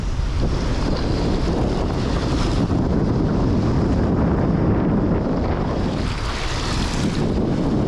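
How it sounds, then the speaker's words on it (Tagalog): Sea waves break and wash steadily onto a beach at Amlan, Negros Oriental, Philippines, a continuous loud roar of surf mixed with wind buffeting the microphone, with no voices. "Yan yung papakita ko sa inyo yung dagat."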